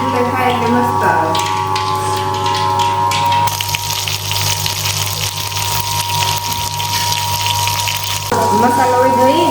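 Water pours into a spiced stuffed-brinjal and gathiya curry cooking on a wood-fired village stove, a loud gushing splash lasting several seconds over a steady background hum.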